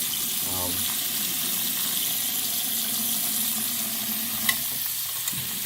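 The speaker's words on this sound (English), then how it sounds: "good water flow" Water runs steadily from an aging hotel tap at the Hilton Garden Inn in Kenner, Louisiana, a continuous hissing splash that fills the whole clip with no one speaking.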